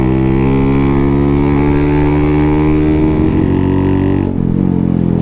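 Motorcycle engine droning steadily at constant revs while riding along a road, loud and close with a strong low harmonic hum, a brief dip near the end.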